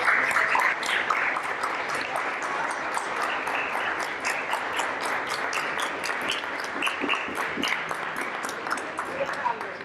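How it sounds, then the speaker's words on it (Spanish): Guests at a poetry book launch applaud people standing up to be recognized, a steady crackle of clapping from a room of listeners sustained for about ten seconds, with voices murmuring underneath. "pueden ponerse de pie para que les den un aplauso"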